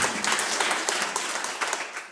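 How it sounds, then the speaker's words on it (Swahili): Church congregation clapping for Jesus at a sermon, a dense, even burst of many hands lasting a couple of seconds, close and fairly loud with no speech over it. "Pigie Bwana Yesu makofi"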